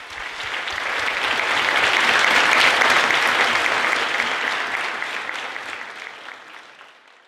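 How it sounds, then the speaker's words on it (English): A large luncheon audience applauds panelists for a community service organization, a dense, loud wash of clapping that swells and then fades away toward the end. "A big round of applause for our panelists."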